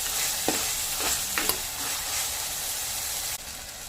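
Long beans and tomatoes with turmeric fry in oil for a palya, a steady close sizzle broken by a few scraping stirs of a spoon against the pan, no voices.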